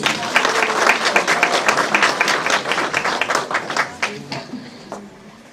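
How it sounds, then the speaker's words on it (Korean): Audience applause fills a year-end gathering of a Hamyang arts association in Korea, steady dense clapping throughout that thins slightly toward the end, loud and close. "큰 박수 부탁드립니다"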